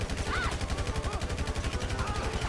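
Rapid automatic gunfire in GTA V, a continuous fast stream of evenly spaced shots over a steady game background, with faint tonal game sounds mixed in.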